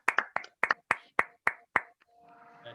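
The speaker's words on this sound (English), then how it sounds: "Please unmute and say a big round of applause for Nasi." A single participant claps after unmuting on an online call, about eight sharp, closely miked hand claps in a quick irregular rhythm, followed by a brief rustle of room noise.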